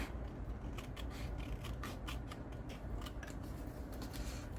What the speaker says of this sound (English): We'll trim off this edge here. And we'll trim off this edge here.